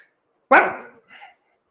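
A single sharp dog bark, close and fairly loud, followed by a shorter, fainter second yelp in an otherwise quiet space.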